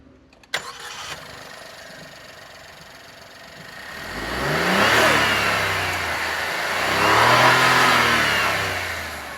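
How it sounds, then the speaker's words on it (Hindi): A 2026 Maruti Brezza turbo petrol engine cranks and starts with a sharp click, then settles into a loud running drone that swells twice as it revs. "अब एक बार इस इंजन का साउंड और वाइब्रेशन कैसे हैं वो आप खुद देख लो।"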